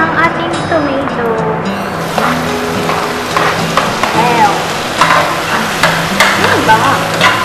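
Tomato going into a pan of garlic frying in butter, a steady loud sizzle with clattering utensil and stirring noises on top, close up, with a voice talking at points over it.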